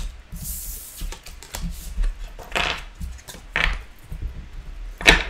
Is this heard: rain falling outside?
no